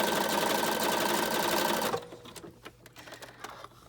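A sewing machine stitches magazine pages for a junk journal, a steady fast whirring hum for about two seconds that stops abruptly, followed by soft clicks and handling noises, close and clear with no talking.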